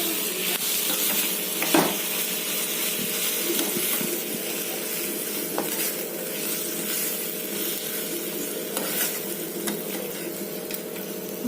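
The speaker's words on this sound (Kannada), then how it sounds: "ಮಾವಿನಕಾಯಿ ತುರಿ ಹಾಕ್ಕೊಂಡ್ಮೇಲೆ ಸ್ಟವ್ ಆಫ್ ಮಾಡಿಬಿಟ್ಟು ಹೀಗೆ ಕಲಿಸ್ಕೋಬೇಕು" Grated raw mango is stirred around a hot pan just after the stove is switched off for mango rice, with a steady soft sizzle and hiss under repeated scraping strokes and occasional louder scrapes.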